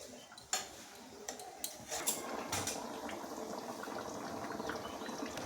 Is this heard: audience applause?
no